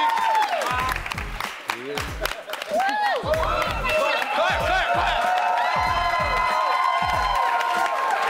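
A live concert crowd at a Revolt Live hip-hop performance cheers, whoops and claps in bursts, loud and close, with shouted voices mixed through the applause.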